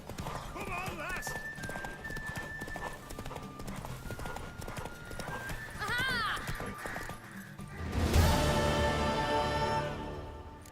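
Hooves clop in a steady galloping rhythm in the video game The Witcher 3, with a horse whinnying near the end and voices talking over the top.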